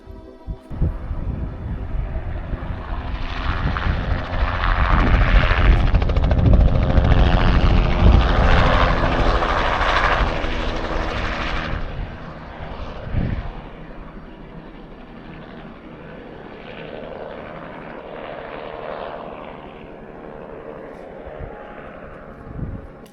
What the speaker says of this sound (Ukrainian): Ось сюди прилітає гелікоптер